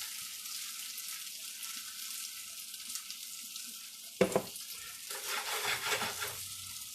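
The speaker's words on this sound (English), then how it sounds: "So now I'm just kind of frying it" Gnocchi sizzles steadily in a hot pan, with a clatter and stirring midway as the frying swells louder.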